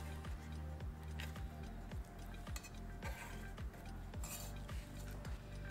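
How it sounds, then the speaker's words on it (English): A knife chops dried bamboo shoots on a cutting board, a steady run of about a dozen close, crisp thuds in an even rhythm, cutting stacked strips into bite-sized pieces for a Vietnamese bamboo soup with ribs and trotters. "I like cutting a few into strips, piling them up, then slicing into pieces."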